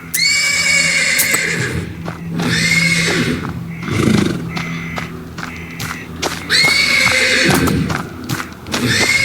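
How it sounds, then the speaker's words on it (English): Repeated whinnying of a horse in the video game Lunacy, several loud neighs rising and falling across the stretch, with dull thumps and movement beneath. "The persistent neighing of a horse can be heard."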